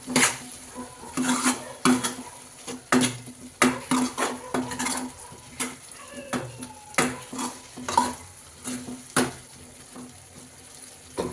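Chopped coriander being mixed into batani chaat, with irregular close scrapes and clinks of a spoon against a metal bowl over a soft background hiss.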